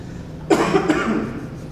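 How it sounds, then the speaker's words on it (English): Two quick coughs, close and fairly loud, the second a little softer, against a faint steady background hum. "I cough all the time."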